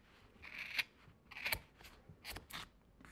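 Scissors snipping through wrapped yarn over a piece of cardboard while making a yarn craft: a few close, crisp cuts with soft fibrous crunching, spaced out over a few seconds with no talking.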